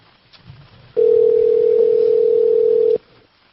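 A telephone dial tone on a live call-in show, one steady pure tone lasting about two seconds, loud and close, framed by quiet studio background before and after.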